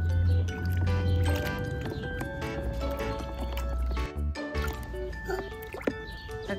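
A plastic toy dinosaur is sloshed and washed in a container of water, giving repeated close drips, squishes and splashes over a steady low hum, with brief plops throughout.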